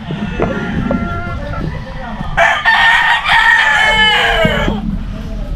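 A rooster crows loudly and close by in a yard full of chickens and hens, with clucking and scattered farm noise before and after the crow and people talking in the background.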